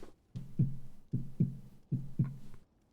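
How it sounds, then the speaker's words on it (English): A faint heartbeat in the video game Greedfall, with three slow, evenly spaced double thumps, each a soft lub-dub pulse, heard alone and close. "You can hear a faint heartbeat."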